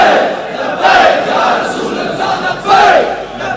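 Large crowd at a religious gathering raising a slogan in unison, loud rolling roars of many voices swelling in waves, with a second surge near the end.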